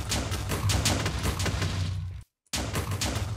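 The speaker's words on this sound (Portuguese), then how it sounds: "Explosão!" Explosion in Minecraft, a dense burst of crackling booms and thuds repeating rapidly for about two seconds, then a brief dead silence before the noisy blasting resumes.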